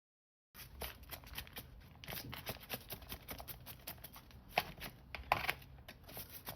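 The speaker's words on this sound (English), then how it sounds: "I'm going to take a shallot and I'm going to finely dice this." A knife finely dicing a shallot on a cutting board, with a fast run of light, crisp chopping taps, close and fairly quiet.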